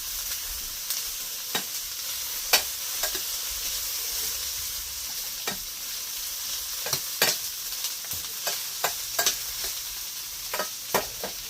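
Onions and homemade sausage fry in a pan with a steady close sizzle, broken by a dozen or so sharp clicks and scrapes of a utensil stirring at irregular moments.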